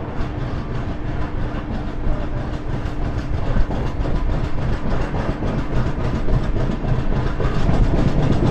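The 13009 Doon Express runs on rails between Kolkata and Varanasi, heard from on board as a steady loud rumble with rhythmic clickety-clack over the rail joints throughout.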